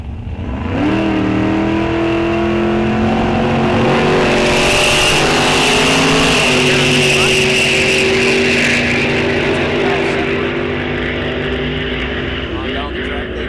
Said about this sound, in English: Vega versus Mustang, you don't see that matchup very often